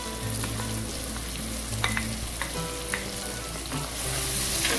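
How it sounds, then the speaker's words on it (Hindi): Fried onions sizzle loudly in a pot of mutton biryani while being stirred, with a steady frying hiss and repeated clinks and scrapes of the spoon throughout. "अब इसमें हम ऐड करेंगे जो प्याज फ्राई करके रखे हुए थे"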